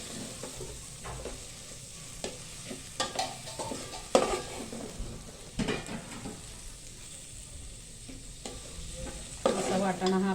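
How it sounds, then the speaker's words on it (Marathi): Green peas being sautéed in a pan, a steady soft sizzle with repeated scraping and stirring strokes of a spoon against the metal, close and fairly quiet, no voices. "छानपैकी आता आपल्याला असा वाटाणा परतवून घ्यायचा आहे"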